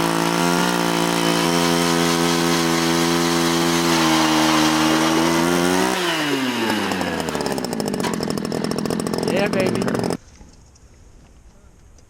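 A loud gas-powered ice auger revs and drills steadily into lake ice for about ten seconds, its engine pitch dropping as it bites in, then cuts to a quieter idle; someone briefly speaks.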